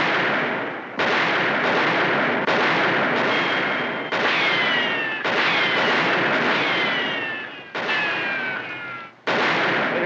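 Repeated loud gunshots ring out in a western TV episode, with blasts recurring every second or so for ten seconds and ricochet-like whines trailing through several of them, close and unaccompanied by talk.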